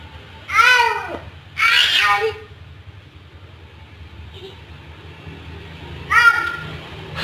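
A cat meows three times, two close together and one later, loud and near over a quiet background hum.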